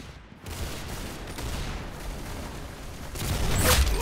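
A burst of rapid gunfire from the video game Arsenal crackles fairly loudly as a continuous dense fusillade, swelling louder toward the end.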